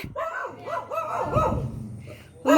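A dog barks several times in quick succession, close by, with a voice speaking briefly near the end.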